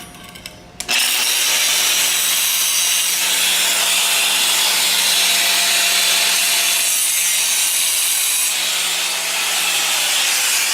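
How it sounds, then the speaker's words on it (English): A cut-off disc grinds a V groove into steel pipe during a MIG and flux core welding lesson, a loud continuous abrasive whine that starts abruptly after a brief pause and holds steady for about ten seconds. "I'm just going to take the cut disc and I'm just going to V into it a little bit"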